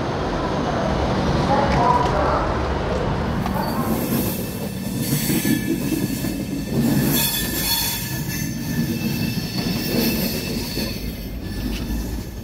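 Train noise inside an AC 2 tier coach of an Indian Railways train, with a continuous rumble and high-pitched wheel squeal running throughout at a steady, fairly loud level, and some background talk.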